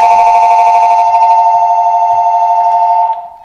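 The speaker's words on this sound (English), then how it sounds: "The phone is ringing." Phone ringing in a scene from the horror film Smile, a steady loud electronic ring held continuously for about three seconds before cutting off abruptly.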